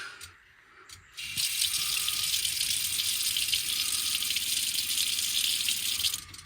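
A tap turns on and water from a newly installed pump gushes steadily into a sink for several seconds, then stops abruptly.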